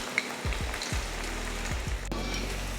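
Mutton chilli pieces fry crisply in hot oil in a pan, a loud continuous sizzle broken by scraping stirs, close and with no voices.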